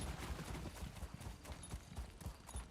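A horse in the Elder Scrolls Online game gallops with rapid rhythmic clip-clop hoofbeats that continue steadily throughout at moderate volume.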